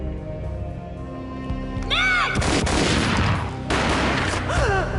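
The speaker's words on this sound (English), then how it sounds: "A gunshot boomed and she fell down in slow motion." Gunfire from the PS2 action game Max Payne: a loud burst of shots breaks out midway and runs as a dense, booming volley over a low ambient hum, with a brief pause before firing resumes.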